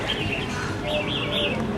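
Caged birds at a roadside bird seller in Chiang Rai, Thailand, give thin, wavering chirps and tweets over a steady street background hum. A few calls overlap near the end.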